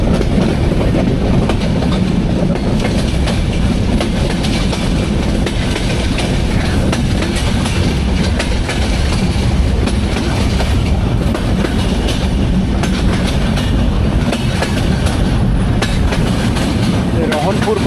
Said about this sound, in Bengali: আব্দুলপুর জাংশনে দেখা যাচ্ছে সামনে 3টা ট্রেন দাঁড়ানো আছে